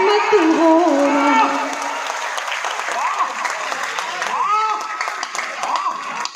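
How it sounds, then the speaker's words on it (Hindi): Audience applause at a live Hindi poetry recital rolls on under a speaking voice, a broad clapping wash that holds fairly steady and loud throughout. "आप लोगों ने ताली बजाई"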